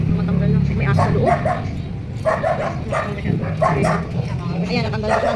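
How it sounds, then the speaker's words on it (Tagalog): A dog barks repeatedly from inside an enclosed space, sharp yips and woofs coming in bursts over steady talking close by. "May aso sa loob."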